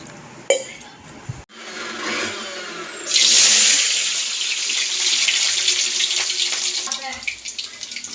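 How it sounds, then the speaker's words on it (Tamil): Water pours from a tap into a pot for a mutton gravy being cooked, starting with a few clinks and splashes before a loud, steady stream rushes in close by and then tapers off near the end. "கொஞ்சமாக தண்ணி சேர்த்து நம்ம வேக வச்சுக்கிறோம்"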